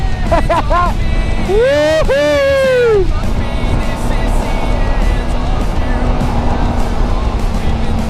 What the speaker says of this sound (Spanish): mira cómo se siente. Es bien furiosa la moto.